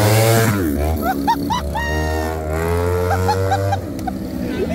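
A small motorcycle revs in busy street traffic while popping a wheelie, its engine whining and rising in pitch over a low rumble of passing vehicles, with a few short horn-like tones nearby.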